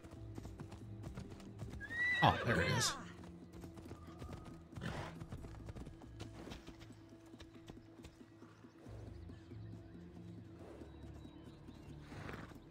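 Horse hooves clip-clopping with a loud whinny in the Assassin's Creed Odyssey video game, the neigh rising sharply near the start over a steady ambient game soundscape, with brief speech.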